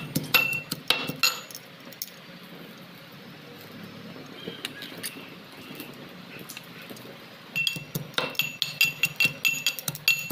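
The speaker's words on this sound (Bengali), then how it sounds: "অল্প থেতো করে নিচ্ছি পেঁয়াজ, লাল লঙ্কাগুলো, রসুন, গোটা জিরা" Onion, red chillies, garlic and whole cumin crushed by hand in a kitchen, giving sharp clinking and pounding taps in irregular bursts at the start and end, with a quieter rustling stretch between.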